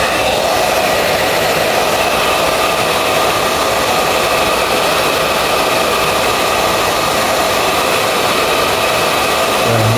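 A blower, not a dedicated cellphone heat gun, heats a cellphone back cover during a repair, a loud, steady, unbroken whooshing roar lasting the whole stretch with no talk.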